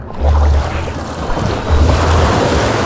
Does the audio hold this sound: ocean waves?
yes